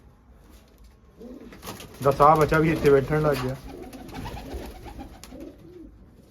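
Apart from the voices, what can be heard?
pigeons cooing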